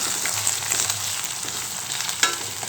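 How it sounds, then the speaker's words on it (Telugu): Onions with salt frying in a pan, making a continuous close sizzle with occasional soft stirring clicks. "ఒక ఫైవ్ మినిట్స్ మగ్గనివ్వాలండి ఆనియన్స్"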